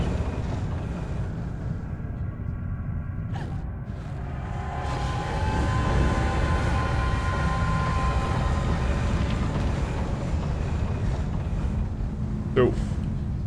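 A train rumbles past in the video game Alice: Madness Returns, a low steady roar building and lingering for several seconds, with a sharp clank near the end; no talk over it.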